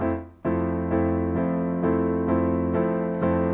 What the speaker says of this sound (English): we're just gonna play eighth notes here for a whole measure